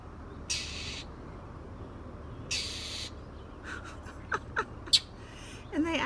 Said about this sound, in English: this is their aggressive squawk